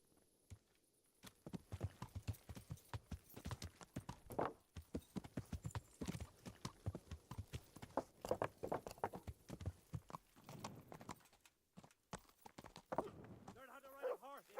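Horse hooves clop steadily and rhythmically while riding in the medieval video game Kingdom Come Deliverance, a dense run of close, distinct hoofbeats with brief pauses and a short burst of other game sounds near the end.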